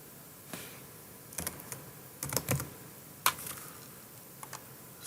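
Computer keyboard typing, a few scattered bursts of quick, light key clicks with pauses between, close and fairly quiet, with no talking.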